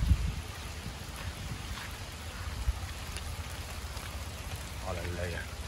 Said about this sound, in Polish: Ale leje.